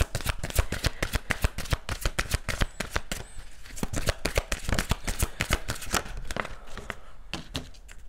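Tarot cards being shuffled by hand at close range, a rapid run of crisp riffling slaps and flicks that continues throughout with a slight slowing toward the end.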